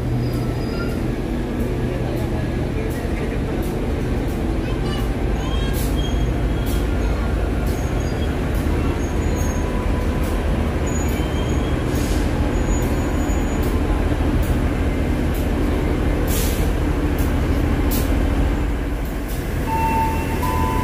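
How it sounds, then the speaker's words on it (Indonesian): A train reverses along track 5 at Tugu Yogyakarta station, a continuous loud low rumble and rolling drone with faint metallic squeals and a buzzing station ambience throughout, voices murmuring in the crowded background. "di jalur 5 ini ada kereta yang mundur"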